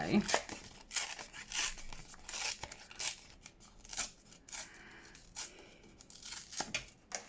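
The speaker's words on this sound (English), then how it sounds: "try and rip it down like so." Paper being torn from a paper pad for junk journaling, a series of quick ripping and crinkling bursts at close range, with someone talking over it.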